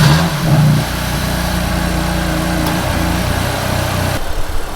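A BMW M3 with new intakes accelerates, a loud, close engine note rising in pitch at first and then holding a steady drone with no talk.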